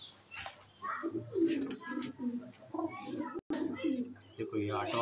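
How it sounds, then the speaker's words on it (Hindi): Pigeons coo softly and repeatedly at close range, throaty low burbles in short bursts while someone talks over them. "देखो ये सातवा कबूतर है भाई"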